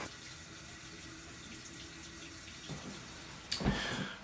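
Water runs steadily from a shower at low volume, with a soft hiss that changes tone midway and a brief louder splash near the end.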